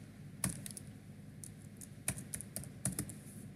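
Keys tapped on a computer keyboard while entering spreadsheet cells, a few sharp clicks in small clusters, close and fairly quiet against a faint background.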